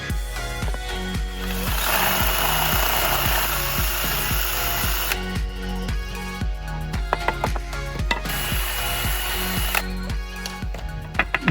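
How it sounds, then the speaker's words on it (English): Power drill bores holes through wooden planks in repeated bursts, motor whining steadily with rhythmic pulsing, stopping briefly between holes; close and fairly loud with no talking. "I then drilled holes at each end of these planks of wood"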